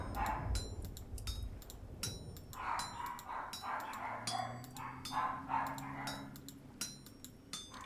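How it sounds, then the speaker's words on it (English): Several neighbourhood dogs bark repeatedly at a distance, with sharp irregular yips and woofs bunched into bursts and fairly faint against the room. "Sorry, my dogs are barking again."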